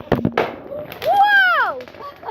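Bonfire-night fireworks: a quick burst of sharp crackling pops opens, followed by a loud, sweeping, descending whistle-like tone and further faint pops at the end, with voices close by.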